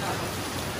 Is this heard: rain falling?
yes